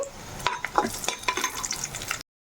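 Garlic fries in a small amount of oil with soft, crackling sizzles and occasional stirring scrapes in the pan, moderately quiet and close, with no talking.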